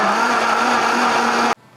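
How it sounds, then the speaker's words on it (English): A blender pulses cantaloupe chunks with a steady, loud motor whir that holds evenly for about a second and a half, then cuts off abruptly into near silence. "as we pulse this, you're gonna see it start to pull that cantaloupe down in there"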